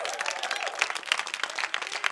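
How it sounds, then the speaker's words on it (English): Audience applause at a comedy show, a steady wash of many hands clapping at moderate level with scattered sharper claps, continuing throughout without voices over it. "Give yourselves a round of applause."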